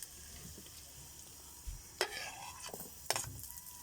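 Garlic stirred in a hot pan with a soft steady sizzle underneath, broken by a few sharp scraping strokes of a spatula against the pan.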